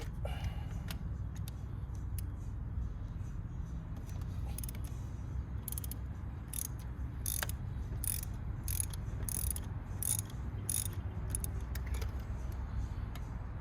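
Ratchet clicking steadily as spark plugs are loosened on the M272 V6 engine of a 2005 Mercedes SLK 350, heard close up in bursts of rapid ticks over a low background hum.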